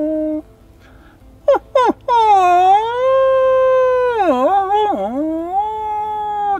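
Hunter's vaba call imitating a wolf, a long loud wavering howl with whining pitch dips after a few short sharp yelps, close and alone.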